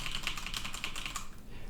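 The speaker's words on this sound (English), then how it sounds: "let's type a little bit on the keyboard" Quick, steady typing on a computer keyboard, a close run of light clicking keystrokes with faint background noise, no speech.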